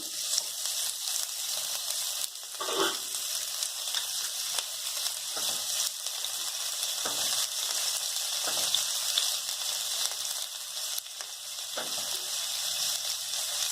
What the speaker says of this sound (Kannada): ಇದೊಂದು 2 ಮಿನಿಟ್ಸ್ ಫ್ರೈ ಮಾಡಿದ್ಮೇಲೆ ಕಟ್ ಮಾಡಿ ಇಟ್ಕೊಂಡಿರೋ ಆನಿಯನ್ ಹಾಕ್ಕೊಳ್ಳೋದು.